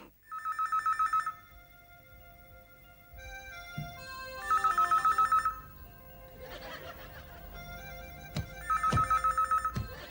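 A telephone bell rings in three separate bursts against a quiet room background, with faint rustling and a brief snicker between rings.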